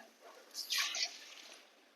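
Water splashes briefly into a pan of Kerala-style fish curry with ground coconut paste, a soft short pour of under a second, fairly close and quiet.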